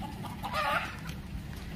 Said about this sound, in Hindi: ये देखिए मुर्गी, ये मुर्गी यहाँ पर